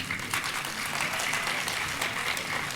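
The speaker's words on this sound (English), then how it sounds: "Please join us in welcoming the stars of Brindavan with a big round of applause." A school day function audience at the Brindavan Educational Trust school in Jayanagar gives dense, continuous applause, loud and even throughout with no break.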